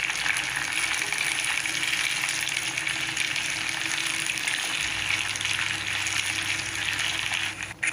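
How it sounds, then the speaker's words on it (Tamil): Chopped okra sizzles in hot oil in a pan while being cooked for a kara kulambu, a loud, continuous, dense frying hiss heard close up with no voices. "கட் பண்ணி வச்ச மொத்த வெண்டைக்காயும் இந்த ஆயிலில் சேர்த்துக்கலாம்."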